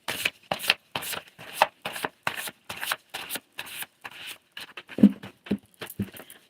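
A deck of tarot song cards is shuffled by hand in quick, rhythmic riffles and flicks, roughly a dozen crisp bursts close to the microphone, with no talking.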